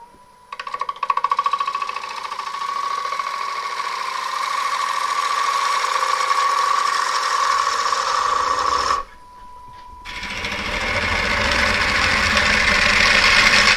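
A wood lathe hollowing a gnarly tree crotch gives a loud, sustained rattling drone as the gouge chatters against the wood. It stops briefly midway, then resumes rougher and louder.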